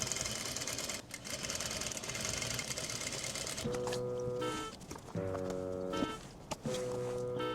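A sewing machine stitches a leather saddle strap seam, a steady close mechanical whir at first, then several short bursts of rapid stitching with brief stops between them.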